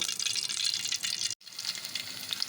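Garlic, cumin and tempering spices sizzle in hot oil for a ridge gourd curry, a dense steady crackling hiss broken by one brief silent cut before it carries on.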